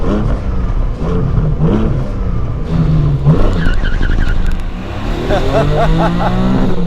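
A 2021 Porsche 718 Cayman GTS 4.0 makes an aggressive launch from about 3,500 RPM with stability control in limited mode. The engine revs rise and fall, the tires screech in bursts, and a man exclaims over the noise.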